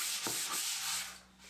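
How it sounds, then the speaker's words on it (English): Brief, close rasping strokes of 120-grit sandpaper rubbed by hand across wood for a balance board, a few back-and-forth passes with no talking. "then finished with some hand sanding also at 120"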